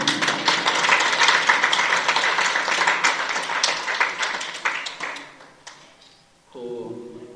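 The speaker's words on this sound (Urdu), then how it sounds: "تالیاں ایک طرف تالیاں۔" Dense applause from an audience at a birthday celebration in a hall, loud and sustained for several seconds before thinning out, followed by a brief voice.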